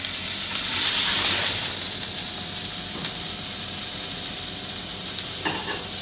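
Vegetables and Sicilian olives sauté in oil in a pan with a bright, continuous sizzling hiss that swells briefly near the start, plus a few soft clicks of stirring, close and steady.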